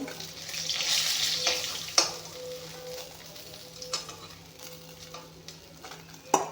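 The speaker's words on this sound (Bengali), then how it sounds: "এতিয়া বাকী মাছখিনিও ভাজি লওঁ" Pieces of bhangon fish fry in a pan with a steady, close broadband sizzle. Sharp utensil clicks and knocks land around two, four and six and a half seconds.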